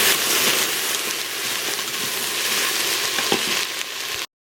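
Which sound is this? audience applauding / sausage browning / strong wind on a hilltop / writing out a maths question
sausage browning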